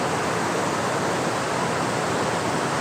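The Kudengrim waterfall roars as a steady, broad rush of falling water close by, a constant wash of noise with no voices over it.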